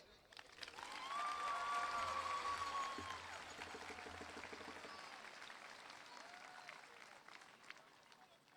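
Applause fills a high school graduation ceremony, swelling quickly into a broad wave of clapping and some cheering, then gradually thinning out, heard from a distance with faint voices mixed in.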